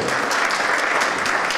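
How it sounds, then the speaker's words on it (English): Dense, continuous applause from a crowd at a chapter inaugural ball, loud and close, a full even roar of many hands for the whole short moment. "I want us to give her a big hand of applause for that also"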